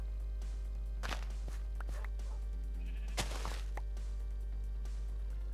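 A few faint sheep bleats in Minecraft, quiet and spaced apart, mixed with soft footsteps and clicks over a low, constant game hum.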